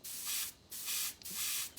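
An airbrush spits paint onto rags in three short, loud hissing bursts, each about a third of a second long, with brief quiet gaps between them.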